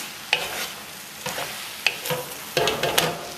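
Beef noodle stir-fry sizzles loudly on high heat in a pan, with several bursts of tossing and scraping spread through the short stretch.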